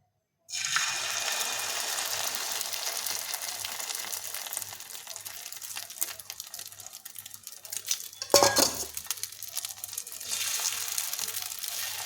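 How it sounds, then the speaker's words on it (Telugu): Egg omelette batter hits a hot oiled pan with a steady, close sizzle that runs throughout, with a brief clatter of utensils partway through; no voices. "ఇప్పుడు ఈ బ్యాటర్ని నీట్గా దీంట్లో వేసుకుందాం"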